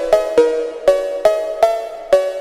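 A synthesized cowbell melody in G Phrygian, built in FL Studio for a phonk track, sounds six bright metallic hits in a steady, slightly uneven rhythm, loud and close with short ringing tails and no talking.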